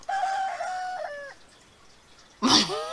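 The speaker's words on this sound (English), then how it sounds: "Where's the chicken?" A chicken in the video game Heartbound lets out drawn-out clucking calls, then a louder, sharper squawk after a short pause; no speech over it.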